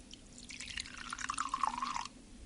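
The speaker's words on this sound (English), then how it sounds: "if I take some of this and pour it into the glass with the bubble bath mixture" Vinegar trickles into a glass holding a bubble bath mixture, a soft liquid pour with light dripping, bubbly splashes that rise for about two seconds and then stop, heard close and quietly.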